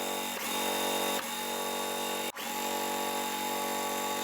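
A sewing machine stitching quilt block pieces for a basket quilt hums steadily and close at fairly high volume, with a few brief pauses and one sharp click partway through, no speech.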